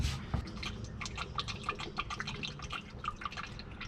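Liquid is poured into the engine of a 1951 Chevrolet 3100 pickup, giving a steady stream of wet dripping and splattering that runs continuously, close up and without speech.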